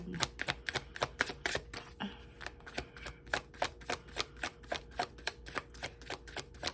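Rapid crisp clicking and riffling of tarot cards being shuffled, a steady series of sharp taps close by, with no talking.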